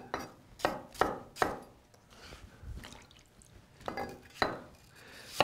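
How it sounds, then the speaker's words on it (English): A knife dices apples on a cutting board in quick bursts of crisp, sharp chops that come in uneven clusters, close and fairly quiet, with short pauses between runs. "If you need the apples diced, you can do that as well."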